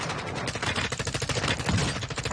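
Rapid automatic gunfire in Warzone, an M4 rifle loadout in play, dense crackling bursts rattling nonstop at close range with no talk over them.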